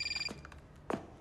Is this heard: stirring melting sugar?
no